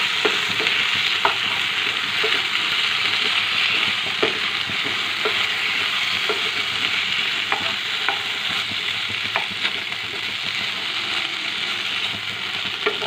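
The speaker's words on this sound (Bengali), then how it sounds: "আর একবার নাড়িয়ে দিচ্ছি।" Fish curry with taro fries in a pan, giving a continuous even sizzle while a spoon stirs it, its soft scrapes and taps recurring every second or two.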